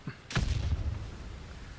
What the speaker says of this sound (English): Oh, that's too much explosion.